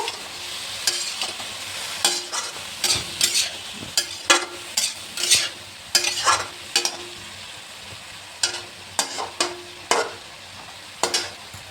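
Food fries in a pan while a spatula scrapes and stirs in repeated short strokes over a steady sizzle, loud and close, with no talk.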